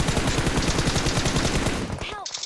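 Rapid machine gun fire in a mobile competitive shooter game, a loud continuous burst of closely spaced shots that cuts off abruptly near the end.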